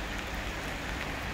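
Steady rain falls outdoors on a dull day, a dense, even hiss of drops on surfaces that stays constant throughout with no voices.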